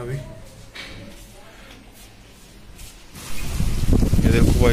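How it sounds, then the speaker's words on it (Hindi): Heavy rain comes in partway through as a loud, dense, steady hiss on an outdoor surface, following a quieter stretch with voices in the background. "ये देखो भाई कितनी तेज बारिश हो रही है।"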